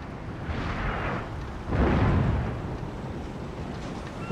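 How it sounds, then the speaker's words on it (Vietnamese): Distant artillery booms roll across a Napoleon Total War battle, two deep muffled blasts rising from a low rumbling background. "Pháo nó bắn tới rồi"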